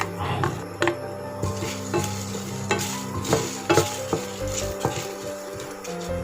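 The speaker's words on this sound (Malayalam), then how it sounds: "ജസ്റ്റ് ഒന്ന് ഡ്രൈ റോസ്റ്റ് ആവട്ടെ" Dry spices such as coriander seeds and cumin being dry roasted and stirred in a pan, with repeated scraping and clinks of a spoon against metal over a light sizzle.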